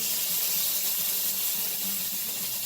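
Meat juice poured from a cooking vessel into a pan in a small home kitchen, a steady continuous liquid stream with a hissing wash throughout, close and moderately loud, with no talking.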